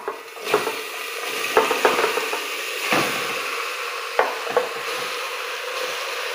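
Meat sizzles in hot oil in a pan with intermittent stirring and scraping clatters, close up, no talking.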